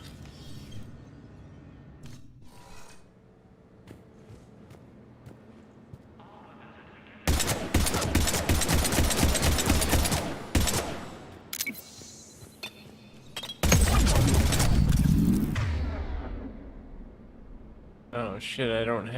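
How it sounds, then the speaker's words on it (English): Gunfire at a shooting range in Mass Effect 3 on PS5, loud rapid automatic bursts in two long stretches after a quieter opening of mechanical clicks, close and dominant. "Shooting range."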